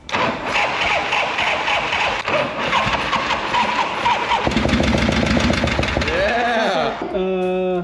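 A 1979 Harley-Davidson Shovelhead motorcycle engine cranks and catches in loud, ragged bursts, sputtering unevenly while people talk nearby, then the revving fades toward the end.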